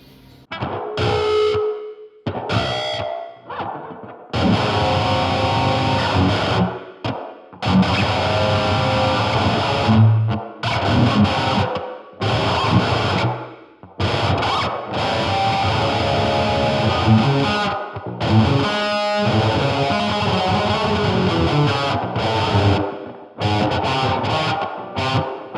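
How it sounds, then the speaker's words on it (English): Electric guitar played through a Line 6 Spider IV 15W amp with reverb turned all the way up, distorted chords and notes ringing out in bursts with washy tails between short silent gaps. "Here's the reverb all the way up."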